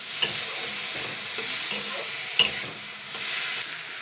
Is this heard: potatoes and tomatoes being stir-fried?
yes